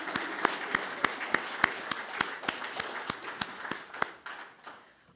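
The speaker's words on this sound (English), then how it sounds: "round of applause" A congregation claps for its prayer chaplains in a church service, a steady patter of crisp individual claps ringing through the hall for about five seconds before thinning out at the end.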